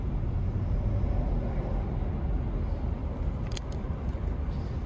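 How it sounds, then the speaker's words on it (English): Convoy of trucks pulling out onto the road in Arizona, a steady low engine rumble and road noise throughout, fairly close and continuous, with a brief higher hiss near the end. "Okay, trucks are pulling out,"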